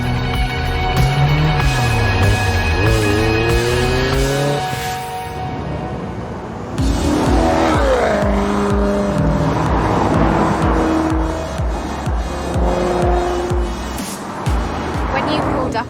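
A Ferrari accelerates hard, its engine climbing through rising revs with a brief gear change, then roaring on as it pulls away, with people talking over the engine throughout.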